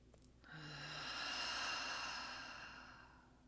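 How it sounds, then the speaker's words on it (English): A single slow, deep inhale through the nose during a guided meditation, close and soft, swelling gradually and then tapering off. "So breathing in nice and slow."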